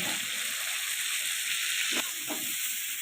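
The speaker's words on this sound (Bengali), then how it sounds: "তেলের মধ্যে অল্প কালো জিরে দিয়ে দিলাম ফোড়নে ঝিঙেগুলো দিয়ে দিচ্ছি" Sliced ridge gourd sizzles in hot oil with nigella seeds, a steady close hiss of frying with a couple of soft stirring knocks near the end.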